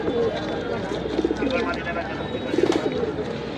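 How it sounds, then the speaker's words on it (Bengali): Pigeons coo in soft, repeated bursts among the bustle of a crowded pigeon market in Hemayetpur, Bangladesh, with people talking nearby throughout. "ভাইয়ের কাছে কয়েকটা জাবরা কবুতর আছে, তো ওই কবুতরগুলো দেখো ভাই"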